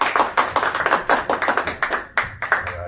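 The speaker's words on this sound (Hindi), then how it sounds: "ताली बजाएंगे एक बार" Audience clapping at an open mic stand-up comedy show, a dense burst of many hands applauding close by, steady through the clip with a brief dip near the end before picking back up.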